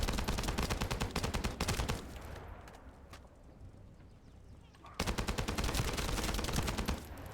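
Enemy gunfire in a video game rattles as rapid, loud automatic bursts, one long volley, a brief lull with scattered shots, then another sustained burst, with talking mixed in.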